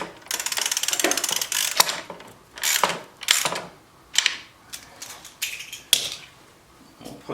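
Bolts on a 2016 Tri Glide motorcycle's Khrome Werks 2+2 narrow handlebars being tightened with a ratchet, giving close bursts of rapid clicking separated by short pauses.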